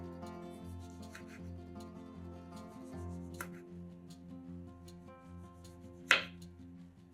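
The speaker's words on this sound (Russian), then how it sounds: "4-6 помидоров небольшого размера нарезаем кружочками." A knife slices four to six small tomatoes into rounds for sandwiches, a few soft, sparse cuts sitting quietly under background music.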